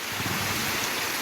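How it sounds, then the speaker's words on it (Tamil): Heavy summer rain pours down in a dense, unbroken hiss across the whole stretch, loud and close with a low rumbling underneath and no voices. "1 மணி நேரம் இடைவிடாமல் பெய்த கனமழையினால் பொதுமக்கள் மகிழ்ச்சி அடைந்தனர்"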